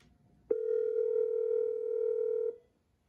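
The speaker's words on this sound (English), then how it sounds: "So you can hear it dialing in the back there" A VoIP desk phone on a portable mesh network setup gives a single steady dialing tone, loud and clean, holding for about two seconds before cutting off, with no talk over it.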